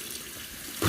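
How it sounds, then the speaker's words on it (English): Warm water poured into a container gives a steady, soft wash of running water that swells louder near the end, close by, with no talking. "this is some warm water I'm adding"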